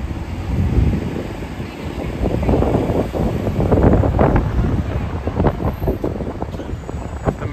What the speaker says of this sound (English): The most horrendous wind, and if I talk, it's going to be so distorted, so please just enjoy the views and the authenticity of the wind.